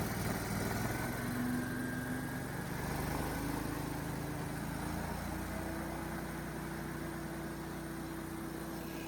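Gas-powered insulation removal vacuum engine running steadily and loud throughout, a continuous droning hum with a faint rise in pitch as it is throttled up, no talk.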